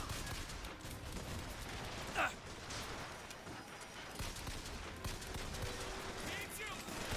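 Gunfire in the shooter game BioShock Infinite, rattling bursts of shots amid a noisy firefight, fairly faint overall with voices shouting in the mix.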